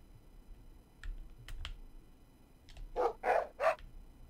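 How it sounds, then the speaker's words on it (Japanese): Barking from a dog in the video game Moon: three short, sharp barks in quick succession near the end, preceded by faint clicks and taps over a low, quiet background. "タオや、そんなに吠えるんじゃないよ。"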